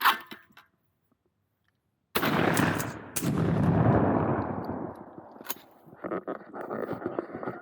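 A shotgun fires at clay targets outdoors during a birthday shoot: after a short silence, one loud close blast rings out and decays over about a second, then a second sharp shot follows, with rustling and movement after.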